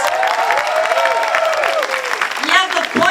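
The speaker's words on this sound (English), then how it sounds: "Let's give them a round of applause." An outdoor crowd at the Lowell Portugal Day flag raising applauds Portuguese American veterans, a loud, sustained round of clapping with some cheering, while a voice speaks over it throughout.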